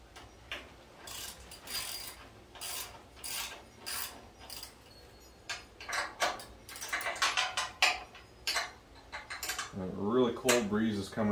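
A ratchet wrench turns 9/16 bolts by hand on the bed of a 1972 Chevy C10 pickup, giving repeated bursts of rapid clicking with short pauses, plus metallic clinks near the end.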